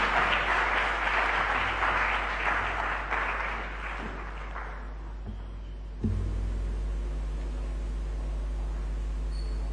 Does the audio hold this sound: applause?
yes